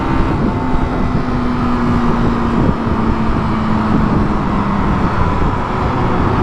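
Motorcycle on a solo trip through Mexico cruising at speed in fifth gear, with a steady engine drone buried under heavy wind rush, loud and continuous, with a faint sustained tone running through.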